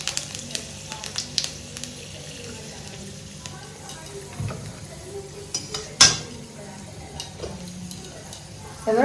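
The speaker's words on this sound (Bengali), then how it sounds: "সরষের তেল গরম হয়ে গেছে, এবার জিরা, তেজপাতা, শুকনো লঙ্কা আর দালচিনি দিয়ে দেবো।" Cumin, bay leaf, dried chilli and cinnamon hitting hot mustard oil in a pan, a soft sizzle with scattered clinks and stirring, close by, with a voice speaking over it.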